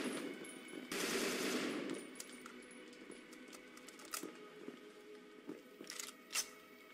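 Gunfire in the Peripeteia video game, a loud burst of rapid automatic fire followed by scattered sharp shots and clatters at varying distances.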